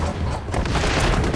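Grenade explosion in the shooter XDefiant, a loud, close booming blast with rumbling crash that spreads out and lingers briefly amid game noise.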